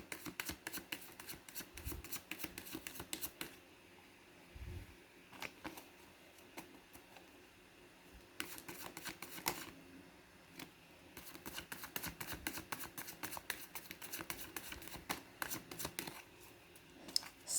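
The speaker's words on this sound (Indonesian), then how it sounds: "sambil saya baca doa dan saya kocok kartunya" Tarot cards are shuffled over and over, giving faint, quick riffling and soft clicking that comes in busy stretches with short quieter pauses, with no talk.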